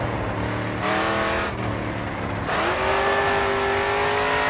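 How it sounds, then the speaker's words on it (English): Race car engine in Grid 2 revving hard, a loud continuous roar that climbs through gear changes, with brief dips and a rising whine near the end. "All right, full throttle now, coming onto the final straight."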